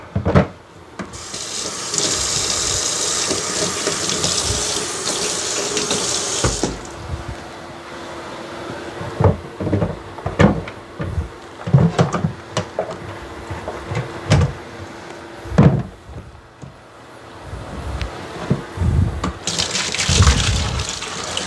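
Tap water runs steadily over plastic parts of a Hoover PowerDash Pet carpet cleaner being rinsed in a sink, a sustained gushing stream that stops midway and then resumes, with clattering knocks and handling bumps in the quieter gap.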